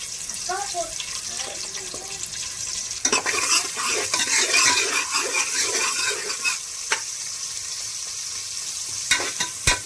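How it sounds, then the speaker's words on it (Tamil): Onions frying in hot oil with whole spices for prawn biryani, a steady sizzle with stirring scrapes and clinks, close and fairly loud, with brief kitchen noises at the start. "இந்த வெங்காயம் வந்து நல்லா வதங்கணும் கலர் மாறி வர வர அதை அப்படியே அடுப்பில் கிடக்கட்டும்"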